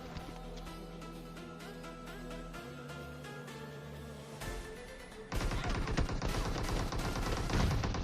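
PUBG Mobile gameplay with SKS rifle fire: sharp shots ring out over steady game music, growing louder and denser in the second half, with no speech.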